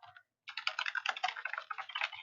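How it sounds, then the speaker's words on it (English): Steady typing on a computer keyboard, a quick run of close, clear key clicks after a brief pause, heard alone. "Now let's just say you're ready to start typing your outline."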